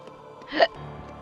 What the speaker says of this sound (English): Oh, hiccups. That's fun.